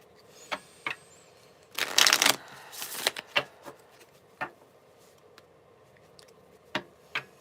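Tarot cards being shuffled by hand, a burst of riffling flutters followed by scattered soft taps and clicks as the deck is handled, close and fairly quiet with no voice over it.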